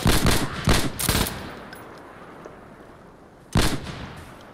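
Machine gun fire in the shooter game Insurgency Sandstorm comes in several short, loud bursts close together at the start, then one more burst after a pause, with the reverb decaying between them.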